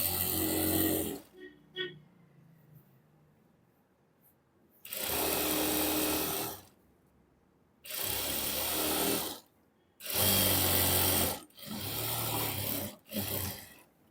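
Sewing machine stitching seams on a palazzo trouser being altered, running in several loud bursts of a second or two each, separated by quiet pauses, with no talk over it.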